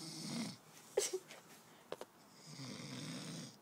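Loud snoring from a sleeping man, with long rasping inhales and exhales near the start and end, separated by a few brief snorts and clicks, close to the microphone.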